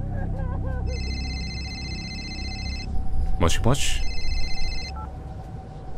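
A telephone in the horror game ROT rings with steady electronic tones, sounding in repeated bursts, while someone speaks briefly over it at the start.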